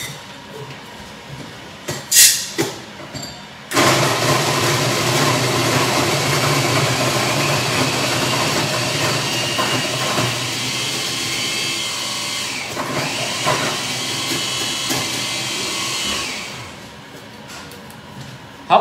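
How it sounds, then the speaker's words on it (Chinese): Hario electric coffee grinder grinding roasted coffee beans at setting 26, a loud continuous whirring grind that lasts about thirteen seconds after a few short clicks and bumps, then winds down and stops. "我去磨豆子"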